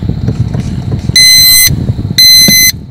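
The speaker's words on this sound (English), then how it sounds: "this is my vacuum meter gauge that will beep when I lose the vacuum" A vacuum meter gauge alarm sounds on loss of brake vacuum in a direct-drive electric car, two loud, shrill electronic tones of about half a second each, clearly above a low background rumble.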